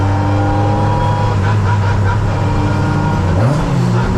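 Racing saloon cars circle the Donington track behind a departing safety car, engines droning loud and steady with harmonic tones, one rising in pitch near the end as it accelerates.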